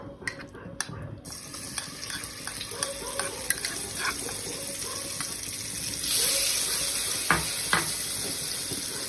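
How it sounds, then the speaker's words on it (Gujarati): Paneer goes into about a spoonful of oil in a kadai and fries, starting with a few clicks and knocks before a steady sizzle builds and grows louder, with occasional scraping stirs and utensil taps. "એક કઢાઈ લઈશું, તેમાં આપણે તેલ એડ કરેલું છે 1 ચમચી જેટલું, અને એની અંદર આપણે પનીર એડ કરી દઈશું"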